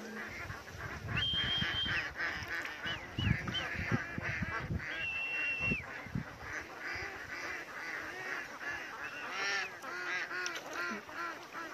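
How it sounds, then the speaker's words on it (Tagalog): A large flock of ducks near rice paddies quacks and honks nonstop, a dense, overlapping chorus of many birds close by, with no talk. "Ang dami nangingitim yung mga itik."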